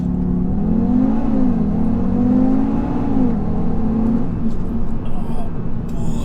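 An Audi TT RS launches hard from a standstill in a full-throttle 0 to 60 run, its engine loud and close inside the cabin, rising in pitch through quick gear changes before easing off.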